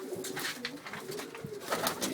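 A female pigeon of an old hereditary house-kept line in Ujjain coos softly in repeated low, throaty pulses, close by, with faint flutter and clicks around it and no talking.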